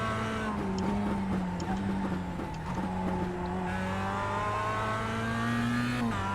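Mazda MX-5 Cup race car at Oulton Park Circuit in iRacing, its engine droning steadily at high revs with shifting pitch through the corners, loud and continuous from the cockpit.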